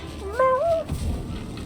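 A golden cat in the Hell Pie video game gives a single short, high, wavering meow, followed by a low rumble of game sound.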